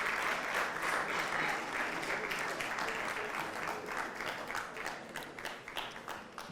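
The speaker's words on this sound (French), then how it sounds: "Merci d'applaudir pour Udvance." Audience applause at a televised a cappella singing competition, a dense, lively wash of clapping that holds steady and then thins out toward the end, with a hint of crowd noise beneath.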